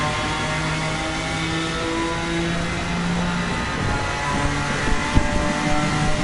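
A BMW GT3 race car engine in Assetto Corsa Competizione on a Silverstone straight, droning loud and steady with held high revs and a faint rise in pitch as it pulls away.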